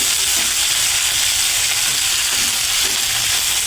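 Okra sizzling and frying in medium oil in a pan while being stirred, a steady close hiss running without a break and never changing in level.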